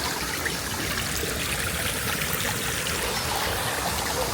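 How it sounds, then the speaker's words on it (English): Storm water during a storm in Portugal runs down a path like a small stream, making a steady, continuous rushing and gurgling close by with no pauses and no voices. "Behind me you can see the water running already down here."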